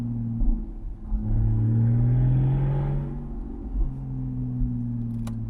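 A Porsche Boxster 981 running an FVD Stage 1 tune accelerates, its engine note swelling and climbing smoothly for a couple of seconds, then easing back to a steady drone, heard loud from inside the car.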